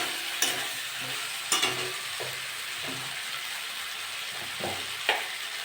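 Spices and vegetables sautéing in oil for a soybean, potato and pointed gourd curry, a steady sizzle broken by several sharp spoon scrapes and stirs against the pan, close and fairly loud, with no talking.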